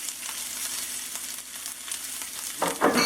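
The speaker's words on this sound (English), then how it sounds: "So I'm going to throw in our oil. Don't need to be shy with that." Vegetables and onions sizzle steadily in a generous amount of hot oil in a pan, a close crackling hiss, with a brief scraping stir near the end.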